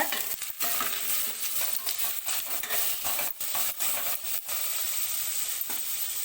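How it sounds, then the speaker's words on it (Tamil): Coarsely chopped onions sauté in a pan for a restaurant-style sweet corn gravy, giving a steady, close sizzle broken by scraping stirs and the occasional clink of a utensil. "இதை நல்லா வதக்கிக்கோங்க"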